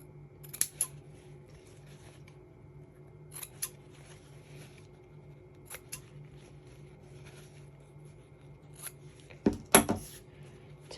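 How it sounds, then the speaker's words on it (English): Scissors snip the corners of a sewn fabric doll diaper, a few sharp close cuts spaced apart with a cluster near the end, over quiet background. "Now I'm going to snip my corners."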